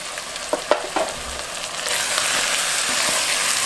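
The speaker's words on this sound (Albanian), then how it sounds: "Edhe e përgojmë shumë pak që mos me lanë mu djegë speci i kush se digjet shumë shpejt" Paprika powder frying in oil in a pot for a chicken and vegetable stew gives a steady, close sizzle that swells louder partway through, with a few soft clinks of stirring early on.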